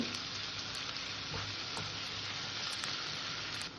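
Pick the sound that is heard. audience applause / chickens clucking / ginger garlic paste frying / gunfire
ginger garlic paste frying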